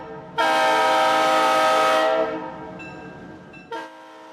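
The Cheat Mountain Salamander, a D and GV tourist train in the West Virginia mountains, sounds a long loud steady horn blast that fades over a lingering rumble, then a second short blast near the end.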